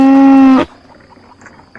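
A single loud, close cow moo with a steady drawn-out tone lasts about half a second, then gives way to quiet background.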